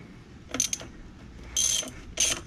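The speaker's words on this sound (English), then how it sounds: "Remove these four bolts." A ratchet socket wrench backs out bolts during installation of an Aperia Halo tire inflation system, giving three short rapid bursts of metallic clicking, close and moderately loud, with no voices.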